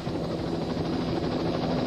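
A police helicopter chasing a suspect drones overhead with a steady, loud rotor thrum that stays constant throughout, with no voices over it.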